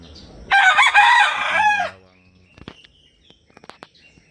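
SBR rooster gives one loud, close crow lasting over a second, followed by soft clucks and small scratching sounds.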